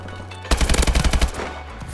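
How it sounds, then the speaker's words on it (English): Rapid automatic fire from an AK-12 with a hair trigger in Call of Duty Advanced Warfare, a loud burst of about ten close shots lasting under a second, then fading echo and game ambience. "This gun melts through people."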